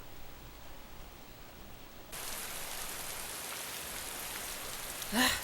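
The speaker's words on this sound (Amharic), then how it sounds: "ዝናብ ሳይሆን በረዶ የሚጥል መሰለኝ።" Hail falling, heard as a steady broadband hiss that jumps abruptly louder partway through and stays dense, with a brief sharper burst just before the end.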